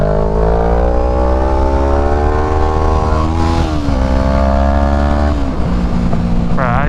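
Motorcycle engine droning steadily up close through a ride, pitch rising and falling with throttle and gear shifts, over constant wind rumble.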